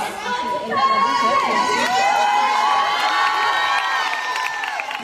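Dense crowd at a fan meeting in Barcelona cheering and screaming loudly and continuously, with high-pitched shrieks and whoops rising above the steady roar of the audience.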